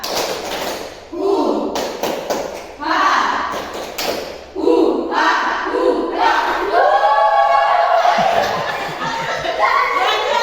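A group performs the tepuk rimba clapping routine in a classroom coaching session, bursts of rhythmic claps and taps mixed with lively chanting voices and shouts, loud and close throughout.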